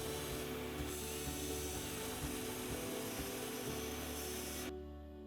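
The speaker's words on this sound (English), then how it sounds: "Sand both the outside and the inside area of the bumper." Power sanding a cracked plastic car bumper, inside and out: a loud, close, continuous whirring grind with a slightly rough texture that cuts off abruptly near the end.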